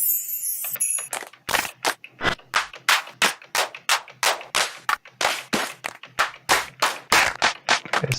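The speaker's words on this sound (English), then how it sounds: "Okay, so these are claps." Clap samples played back in Ableton Live: a quick series of crisp, dry hand claps, each struck alone in a steady, fairly even rhythm, loud and close.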